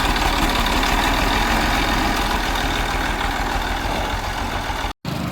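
A new Eicher tractor with a rotavator attached idles in a field, its engine giving a steady, loud, low rumble that holds without a break for several seconds before a brief dropout near the end.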